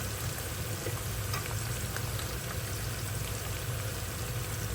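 Spices sizzling in a pan for palak aloo, a dense steady crackle and hiss that stays constant throughout at close range, with a low rumble underneath and no talking.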